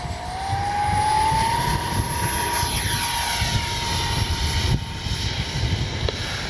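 Radio-controlled X-Fly F-22 Raptor with twin 40mm electric ducted fans flying in windy conditions, a high whining fan tone that rises then holds steady over a rumbling gusty wind background, continuous and moderately loud.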